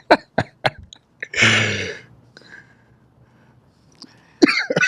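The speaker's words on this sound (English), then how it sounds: "if you hear me coughing my lungs out" A person nearby in a podcast studio coughs several times in sharp bursts, then gives a longer, harsh rasping cough, followed by quiet and another loud burst at the end.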